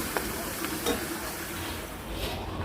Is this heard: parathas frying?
yes